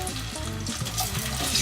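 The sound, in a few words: onion frying in soybean oil in a pot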